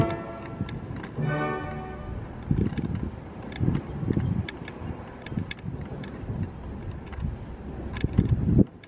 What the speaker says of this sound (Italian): Poi fa queste folate improvvise dal niente.